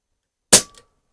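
A single sharp, snappy shot from a Snowpeak PP750 4.5mm PCP air rifle, close and loud, followed by a faint metallic tick as it fades.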